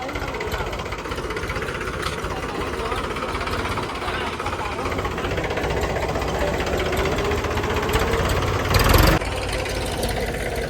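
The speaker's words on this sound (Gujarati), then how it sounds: "ટ્રેક્ટર આવી ગયું છે" A tractor engine idling on a farm, a loud continuous close rumble throughout with a brief louder surge near the end.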